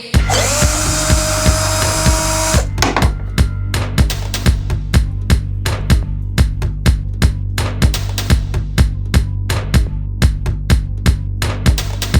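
A power tool removes a bolt from a Citroen C2 VTS fog light: a loud, close, high whir runs for about two seconds, then a steady series of sharp, rapid impact-like clicks continues evenly to the end.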